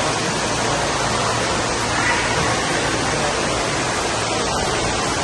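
Water pours and splashes down steadily at an indoor water park, a dense, continuous broadband rush that stays loud and even from start to end, with no voices.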